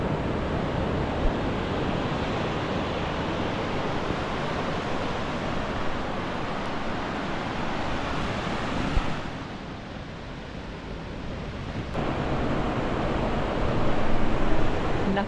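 Ocean waves breaking along a shore at sunrise, a steady, broad wash of surf with wind noise buffeting the microphone, dipping briefly before swelling back up, with no voices.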